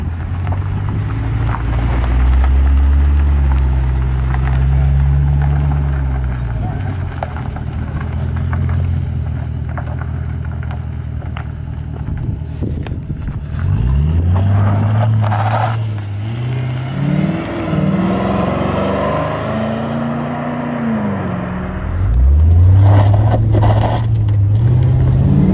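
A wrecked automatic Ford Mustang GT with no doors drives along, its engine droning loudly and rising and falling in pitch as it accelerates and shifts, under steady buffeting wind noise.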